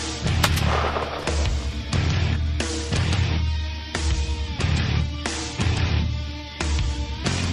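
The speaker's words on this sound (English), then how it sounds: "Shoot him." A loud gunshot rings out during an outdoor hunt, fired at game, followed by a series of booming, reverberant bursts that fill the clip with dense, roaring sound.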